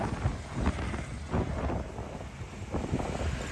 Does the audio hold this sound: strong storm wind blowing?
yes